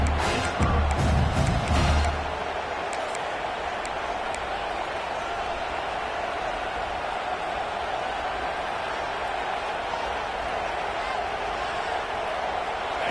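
Stadium crowd at a football game, a broad steady roar filling the space throughout, with a louder burst of noise and thumps in the first two seconds before settling into a constant sustained din.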